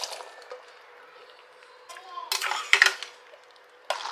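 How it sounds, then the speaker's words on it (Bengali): Boiled kabuli chickpeas go into a pan of chole masala, bringing metal utensil clinks and clatter, a few sharp knocks and a scraping rustle against a steady low kitchen background. "এই যে সেদ্ধ করে রাখা কাবলি চানাটা এবার অ্যাড করে দিলাম"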